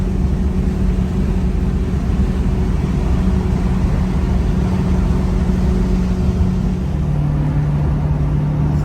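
A Porsche 928's small-block V8 drones steadily on a highway cruise at about 78 mph, a loud, continuous low engine hum with road and wind rumble that holds even throughout, and no one speaking.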